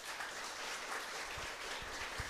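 A church congregation breaks into applause for a preacher, a steady crowd clapping wash that holds at a fairly even level throughout, with a few low thumps underneath.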